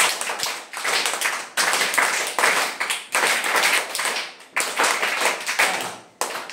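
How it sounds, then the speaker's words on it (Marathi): First- and second-grade schoolchildren clap together in repeated loud bursts, each burst a rapid patter of many hands that stops briefly before the next round, close and without speech. "एक वेळेस आपण टाळ्या वाजवायच्या."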